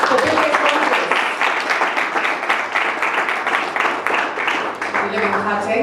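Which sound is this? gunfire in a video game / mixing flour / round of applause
round of applause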